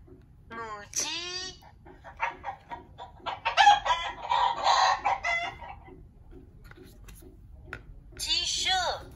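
Hens and a rooster cluck and crow in a farmyard setting for a children's farm picture book, several bursts of clucking and calls, loud and close, with a voice speaking between them.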